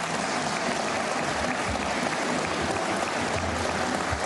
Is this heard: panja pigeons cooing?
no